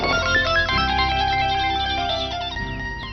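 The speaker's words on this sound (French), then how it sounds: "Ton téléphone sonne." Mobile phone ringtone ringing loudly and close, a bright electronic melody of layered tones with a bass backing, with no talking.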